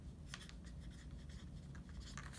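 A pen writing an address on the front of an envelope, quiet scratchy strokes in short bursts with pauses between them, close up.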